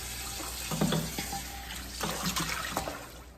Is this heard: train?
no